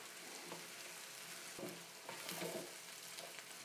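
Pancetta lardons and vegetables for a bolognese sauce fry in a pan, giving a steady soft sizzle with a few louder crackles and stirring scrapes, close by and faint overall, with no talking.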